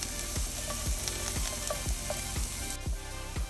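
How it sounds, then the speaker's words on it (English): Onions sauteing in olive oil in a pan for rigatoni, a steady close sizzle with a regular series of dull stirring knocks roughly every half second, no voices. "Let's start with a little olive oil. Let's put in our onions. And we're going to saute them a little bit."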